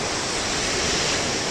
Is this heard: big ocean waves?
yes